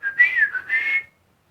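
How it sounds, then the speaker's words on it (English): A person whistles a short, clear two-part tune, a rising then held note lasting about a second, close and alone, followed by silence. "That was my whistle."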